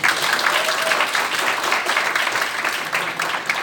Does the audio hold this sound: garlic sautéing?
no